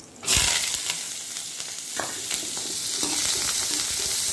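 Curry leaves, garlic and onion sautéing in a pan with urad dal for an ivy gourd poriyal, giving a loud, steady sizzle and crackle of hot oil from start to finish with no talking.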